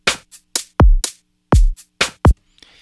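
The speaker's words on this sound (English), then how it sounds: "Let's just go ahead and listen to the drums." A programmed drum loop with deep kick thumps and snappy hits, including a self-made clap sample, repeats in a steady pattern, dry and close, with no voices.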